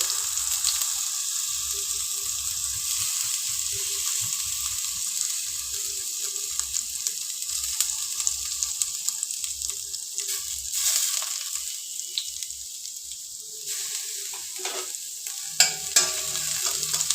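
Grated ginger fries in a pan with a steady sizzle and stirring scrapes, mixed with running water like a tap filling a sink, with no speech.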